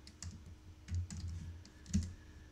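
Computer keyboard keys are pressed in a short sequence of quiet clicks, likely a Ctrl+1 shortcut followed by Enter, faint against low background hum.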